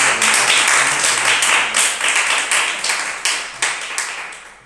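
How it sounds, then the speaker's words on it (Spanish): A church congregation claps loudly together, the sound dense at first and then breaking into sharper, scattered claps that trail off and fade over a few seconds. "Den un fuerte aplauso al Señor."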